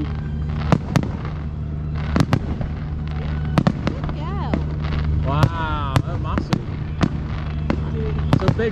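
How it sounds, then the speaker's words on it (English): A big fireworks display for the Queen's Jubilee in Morecambe, with repeated sharp booming bursts and crackling at irregular intervals over a continuous rumble, while people talk and exclaim. "Some big fireworks."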